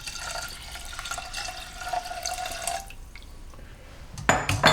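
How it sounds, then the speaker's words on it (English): Water running and dripping into a saucepan of rinsed sushi rice, a steady close trickle with faint splashes that ends in a brief louder clatter. "Add 1 1/4 cups of water"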